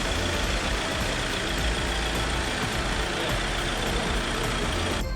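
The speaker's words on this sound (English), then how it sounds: "Start the car for a few minutes so that the oil filter retains the needed volume of oil" Engine of an Audi Q5 idling after an oil service, a dense, steady rumble and hiss with no breaks, loud and close throughout.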